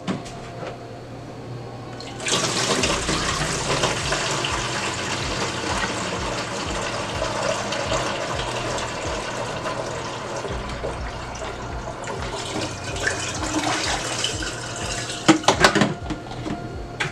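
Coconut water juice with ginger and lemon is strained, a steady liquid pouring and trickling sound running for many seconds with occasional clinks of a container near the end.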